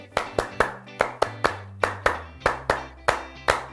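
A Hizbul Wathan Muhammadiyah scout group performs its rhythmic group clap: about a dozen sharp, close, unison claps in a patterned beat, with voices chanting along between them.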